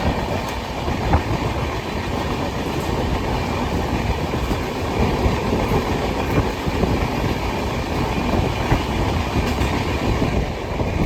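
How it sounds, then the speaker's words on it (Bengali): The Darjeeling Mail, a passenger train pulling out of Katwa Junction, runs steadily with a continuous rumble and rhythmic clickety-clack of wheels over rail joints, heard from inside a carriage, with no voices. "আপাতত কিন্তু ট্রেন ছেড়ে দিল আমাদের কাটোয়া জংশন থেকে"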